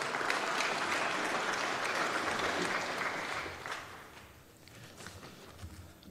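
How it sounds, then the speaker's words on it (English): An audience at a youth awards ceremony applauds an award recipient, dense clapping that holds strong for a few seconds, then thins and fades to scattered claps. "Kere kere, a round of applause for Tupou Veiogo."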